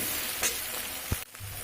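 Egg frying in a hot pan while being stirred and broken into pieces, a steady sizzle with a couple of short scraping knocks and a sudden break near the end.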